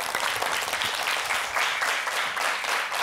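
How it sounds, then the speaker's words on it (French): Studio audience applause at the finale of a televised holiday contest show, a dense steady wash of many hands clapping at even loudness for the whole stretch, with no voices over it. "On va applaudir très très très fort."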